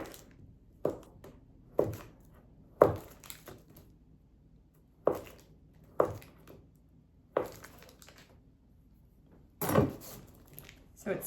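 A knife cuts down through a stick of butter on its paper, with about eight crisp cuts landing close and at a fairly regular pace, roughly one every second or so.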